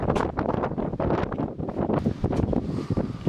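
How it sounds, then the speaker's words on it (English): Gusts of wind on a windy day buffet the microphone outdoors at a shore house, a loud, rumbling, uneven roar that surges and dips continuously. "It's a windy day out."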